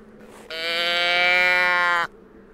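Dall sheep in the hunting video game The Hunter Classic: a single loud, drawn-out bleat lasting about a second and a half, close and clear over a quiet background.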